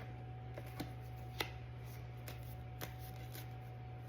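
Deck of reading cards being shuffled, soft riffling and sparse light taps over a low steady hum, quiet and close, no speech.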